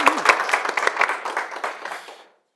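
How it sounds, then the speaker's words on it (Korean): An audience at a Korean business forum gives a short burst of dense applause that tapers off and stops after about two seconds. "박수 부탁드리겠습니다."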